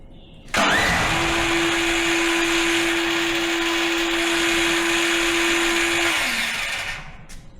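A Duromax 13000 generator engine fires up abruptly and runs at a loud, steady roar with a sustained whine for several seconds, then winds down toward the end.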